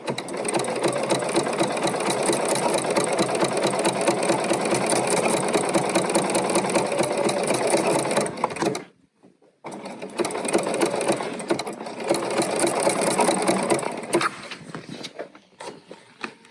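A Bernina sewing machine stitches fabric in a loud, steady run of rapid needle strokes for about eight seconds, stops briefly, then runs again before trailing off near the end.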